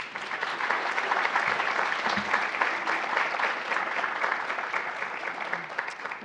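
A crowd at a campus academic honors day ceremony applauds an award recipient, continuous dense clapping of many hands, close and steady for over six seconds with a few faint voices underneath.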